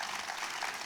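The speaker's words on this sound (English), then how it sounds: "I want a special clap for these children" An audience at a school annual day event claps for a group of children, a dense, even wash of applause from many hands, steady and moderately loud with no break across the short moment.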